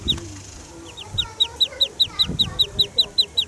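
Rapid, evenly spaced high peeping calls from a duckling in a tree-hollow nest repeat in a steady run, close and clear, over soft background noise.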